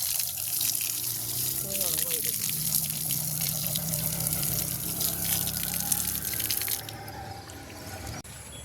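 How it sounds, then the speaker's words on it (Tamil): Water poured over feet at a Shiva temple, with running, splashing water and drips close to the microphone for several seconds amid outdoor background noise and a voice. "வடிவாக காலை கழுவிட்டு"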